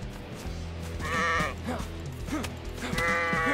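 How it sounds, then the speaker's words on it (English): Sheep bleating in several wavering calls, one early, fainter ones in the middle and another near the end, fairly close against steady low background noise. "I'm punching sheep, man."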